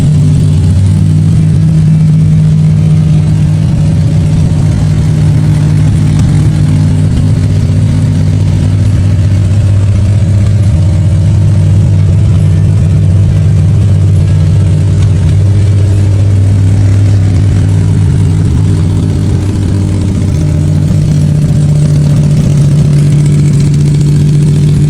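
A 1951 Pontiac 4.4-liter Silver Streak straight-eight rumbles loud and near, idling with a steady low drone that swells into brief revs and settles back, with no voices over it.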